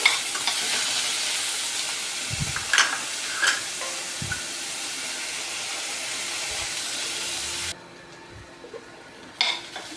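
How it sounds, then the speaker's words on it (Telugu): Four onions fry in oil in a pan until browned, a steady sizzle with occasional stirring scrapes and a spoon clink, then the sizzle drops quieter near the end. "ఓ నాలుగు ఉల్లిపాయలు ఇవి బ్రౌన్ కలర్ వచ్చినంత వరకు వేయించుకోవాలి"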